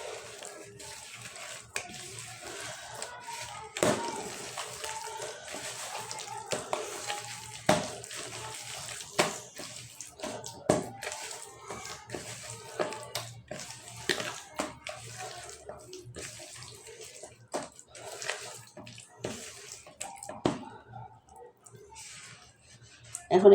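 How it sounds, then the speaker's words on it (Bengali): Chicken pieces are worked by hand into a tandoori masala spice marinade in a bowl, giving quiet, irregular wet squelches and slaps close up, with a voice talking at times. "এখন এটা আমি ভালো করে মাখাই নেব।"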